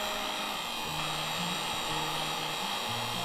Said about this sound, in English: So I have this heat gun, and so I'm going to put the surface on.